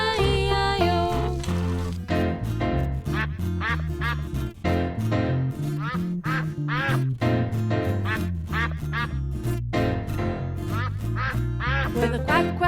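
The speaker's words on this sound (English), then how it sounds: "And on that farm he had a duck" Cartoonish duck quacks repeat over a bouncy children's farm song with steady music underneath throughout.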